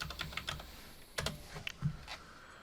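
Quick bursts of keypresses on a computer keyboard while a retro game emulator runs, irregular clusters of sharp clicks close by, with short pauses between runs.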